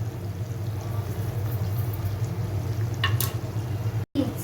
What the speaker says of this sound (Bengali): এখন দিয়ে দিচ্ছি টমেটো কেচাপ, দিচ্ছি সয়া সস।